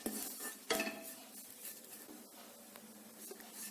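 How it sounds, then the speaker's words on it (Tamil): Grated coconut roasts in a kadai as a spoon scrapes and stirs it, with one loud clink of metal early on and then quieter, continuous dry scraping. "தேங்காய் துருவல் சேர்த்திட்டு இது நல்லா ஈரப்பதம் போகிற அளவுக்கு சிம்லேயே வச்சு வறுத்துக்கோங்க"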